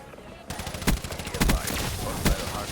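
Rapid bursts of MSMC submachine gun fire in Black Ops 3, sharp close shots over a steady game background, with loud peaks near the middle and end.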